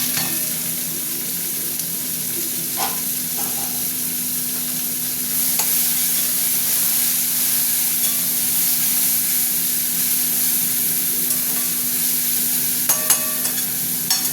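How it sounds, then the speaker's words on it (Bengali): Onions hit hot oil that already holds dried red chillies and bay leaves, setting off a loud, steady, close sizzle with a constant hiss, a few clicks of a spoon and a brief louder burst near the end. "তেল গরম হয়ে গেছে, পেঁয়াজগুলো দিয়ে দিলাম"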